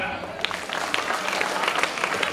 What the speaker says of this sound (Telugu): రెండు చేతులతో చప్పట్టు కొట్టండి గట్టిగా